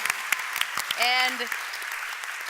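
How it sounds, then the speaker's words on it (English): Scattered audience applause at a youth panel summit, with sparse claps quickly thinning out, while a voice speaks briefly over it. "One more round of applause."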